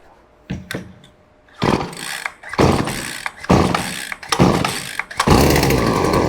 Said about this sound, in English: As you're going to pull on that rope, you're going to hear it eventually